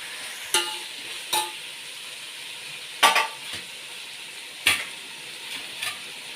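Food frying in a pan with a constant close sizzle, punctuated by a handful of sharp metallic clanks and scrapes of a utensil against the pan at irregular intervals.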